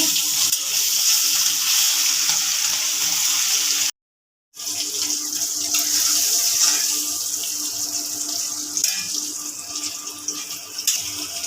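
Hilsa fish pieces and their roe hit hot oil in a pan, giving a steady, loud broadband sizzle that drops out briefly, then resumes and carries on alone.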